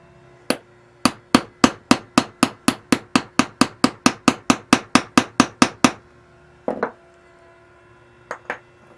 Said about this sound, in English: the rivet that secures the snap down inside the sheath, followed by the little anvil, which is used with my snap setter